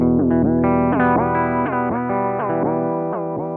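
An instrument runs through a Chase Bliss Warped Vinyl MK2 chorus pedal with depth and warp turned all the way up, producing a loud, continuous, wobbling pitch-warped tone with gritty distortion and no talking.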